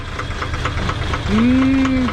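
A 1980 International Scout diesel engine runs with a rough, rapid knocking clatter close by, joined midway by a rising tonal whine that holds steady before fading slightly.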